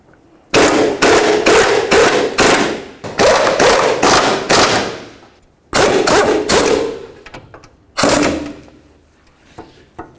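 Loud bursts of a pneumatic impact wrench tightening control arm mounting bolts on a Dodge Caliber, coming in repeated rapid rattling pulses in three groups with short pauses, close up and without speech.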